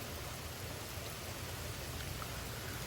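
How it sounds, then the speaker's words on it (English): Heavy rain pours during a severe thunderstorm with gusty wind in Frisco, Texas, a steady, faint, even hiss of falling water with no distinct thunder or voices. "it is raining a lot right now"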